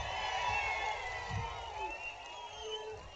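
A large crowd at a political public meeting in Allagadda, Andhra Pradesh, cheers and claps in a continuous roar with blended voices, dense and sustained throughout, no clear single speaker.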